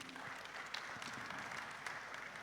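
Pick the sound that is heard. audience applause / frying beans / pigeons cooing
audience applause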